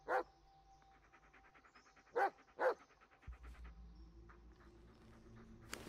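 Dog from the video game Blair Witch, heard in three loud close barks with a softer stretch of panting and faint whimpering in between.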